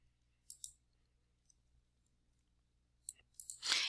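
Computer mouse clicks while editing a form in Microsoft Word: a quick double click near the start, then a louder cluster of clicks near the end, crisp and close over a quiet background.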